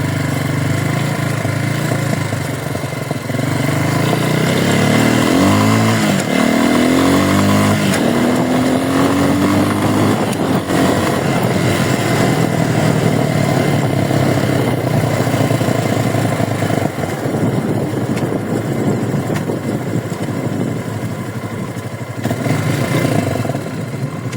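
A Forte Cross 250 motorcycle with a 250 cc engine roars loudly and steadily while being ridden, its pitch sweeping up and down through several gear changes before settling into a constant drone.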